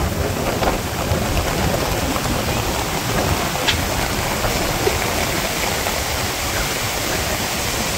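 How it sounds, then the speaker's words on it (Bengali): Heavy monsoon rain pours down in rural Bangladesh, a dense continuous roar of water on surfaces that stays loud and even throughout, with no talking. "বাবা বৃষ্টি"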